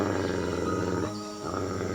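A deep, rumbling growl from a jungle animal rolls on steadily, loud and close, dipping briefly in the middle before swelling again.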